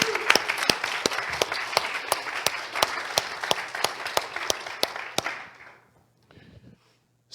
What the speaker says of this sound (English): So why don't we all just give a great round of applause for all the speakers that we've had.